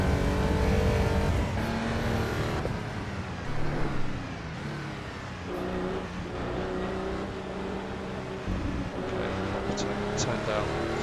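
Car engine sound from inside the cockpit in the racing game Assetto Corsa EVO: steady droning engine with rising and falling revs through gear changes, with a voice talking over it throughout.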